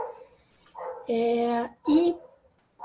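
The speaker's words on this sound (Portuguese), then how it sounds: "a gente tem um cachorro latindo aí" A dog barks in the background of an online group art-therapy workshop, two drawn-out, tonal barks in quick succession, fairly loud and close, with faint murmuring before them.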